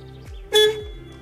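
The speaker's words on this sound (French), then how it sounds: "Il est temps d'essayer de réparer ce klaxon pour qu'on puisse s'énerver sur les gens sur la route." Repaired horn on a converted camper van gives one short, loud honk in the middle, with a low engine idle before and after.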